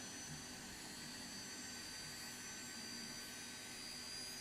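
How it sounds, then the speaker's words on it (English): Four small turbojet engines on a Lockheed JetStar taxiing in a flight simulator game: a steady, even jet roar with a high whine layered on top, continuous and unchanging throughout, with no voices. "Tiny, 4 not very powerful turbojets blasting out the back of this thing."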